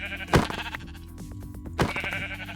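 Two separate sheep bleats from Minecraft, one near the start and one near the end, each a short, clear, game-style baa with a quiet gap between them and no talking.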